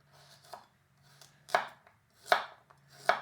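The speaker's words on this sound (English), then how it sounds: "Okay, so that was a carrot." A carrot being chopped on a board with an imarku utility knife from a 14-piece kitchen set: four crisp, evenly spaced knife strikes, the last three sharper and louder, close up with no talking.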